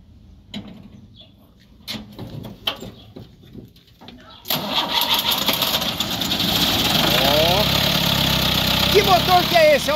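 A 1970 Ford F-100 pickup's engine cranks and catches at about four and a half seconds, then settles into a loud, steady idle. People talk throughout, both before the start and over the running engine.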